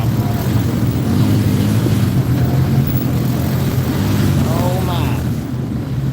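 Race cars rolling out onto the track at Eagle Raceway, a loud steady engine roar filling the whole stretch, with excited voices talking over it.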